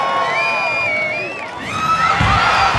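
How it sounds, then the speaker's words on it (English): A large crowd at an American Ninja Warrior qualifier cheers loudly, whoops and shrill shouts rising and falling in a continuous roar, with a louder surge toward the end. "The crowd is going nuts."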